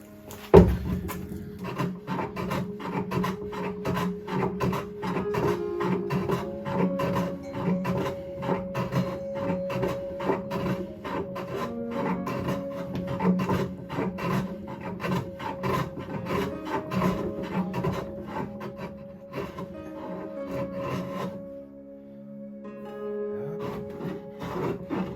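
A long stretch of rhythmic rasping and scraping on solid walnut as a cut in a Roubo workbench is cleaned up by hand, steady strokes close by, easing off briefly near the end.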